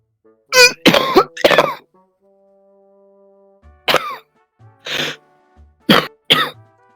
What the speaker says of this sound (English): He's doing coughing.